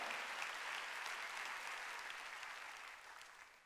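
A congregation at a Sunday church service applauds in a thick, continuous patter that sounds somewhat distant and slowly tapers toward the end, with no voices over it.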